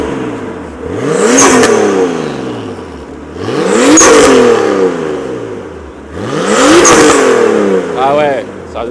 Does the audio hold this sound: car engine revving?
yes